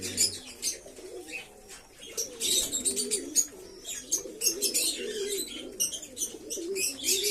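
A flock of Madras flying pigeons coos in overlapping, throaty warbles during morning feeding, with scattered chirps and light rustling throughout, close and fairly loud.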